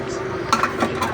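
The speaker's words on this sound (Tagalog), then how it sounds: "haluin natin yan" Chicken feet being stirred in a cooking pot, with a few quick clinking utensil knocks against the pot over a low steady background.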